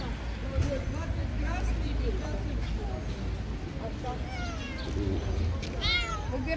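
Kittens for sale at an outdoor street market meow in short high cries amid busy crowd chatter and nearby talking voices.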